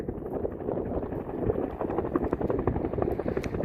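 A helicopter flies close overhead at a wildfire in the Rincon Mountains near Tucson, Arizona, its loud rotor thump and engine roar filling the air steadily with wind buffeting the microphone.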